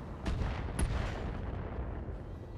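Heavy weapons fire from mechs in a BattleTech battle, aimed at a Dragon mech: dense rumbling booms and blasts with a sharp crack near the start, loud and continuous throughout.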